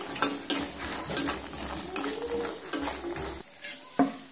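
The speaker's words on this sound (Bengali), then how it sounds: "বড়িগুলো আমি নেড়ে চেড়ে সুন্দর করে একদম লাল লাল করে মুচমুচে করে ভেজে নিয়েছি।" Lentil dumplings (bori) fry in a pan over medium heat, a low sizzle beneath repeated scraping and knocking of a spoon stirring against the metal, the strokes coming about every half second to a second.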